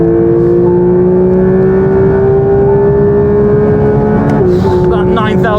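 A Porsche GT3 engine screams at high revs on a race track, heard loud and sustained from inside the car. A brief dip near the end sounds like a gear shift before the engine note climbs again.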